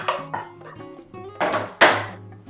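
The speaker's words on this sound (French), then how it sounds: "On remue tout ça" A spoon stirs a spiced cream mixture with fresh chopped parsley in a pan, giving a handful of sharp metallic clinks and scrapes at irregular intervals, close and moderately loud.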